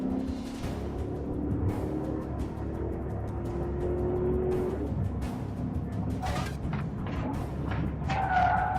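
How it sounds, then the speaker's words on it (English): A stolen police patrol car speeding at close to 90 mph during a pursuit, heard as a continuous engine roar with tire and road noise, steady and moderately distant, with brief sharper scrapes and a wavering tone near the end. "During the pursuit, he's actually going close to 90 miles an hour."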